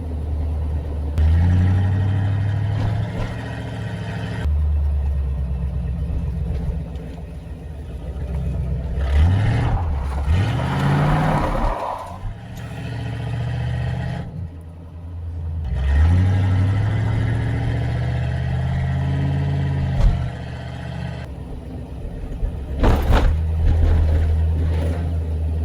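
Car rolling over raised road markings at around 20 to 30 miles an hour, a low engine drone with repeated rumbling thumps and surges as the tires cross the bumps, heard from inside the vehicle.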